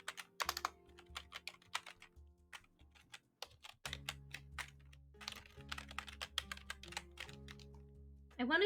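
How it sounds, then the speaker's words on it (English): Typing on a computer keyboard while playing Type King, bursts of rapid close key clicks with short pauses between them, set against a low steady background hum. "you're already pressing letters on a keyboard"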